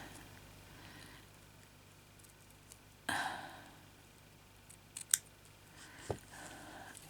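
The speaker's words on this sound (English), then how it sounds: "I have to cut this bit off too before it sticks." Scissors snipping off a bit of beading thread, a single crisp cut followed by a few light clicks and handling sounds in a quiet room.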